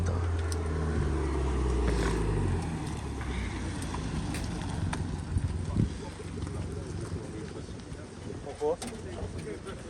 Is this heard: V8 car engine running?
yes